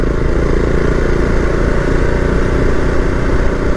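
A Husqvarna Vitpilen 701 single-cylinder motorcycle heard while riding, its engine a loud, steady, close drone with constant rumble and no pauses.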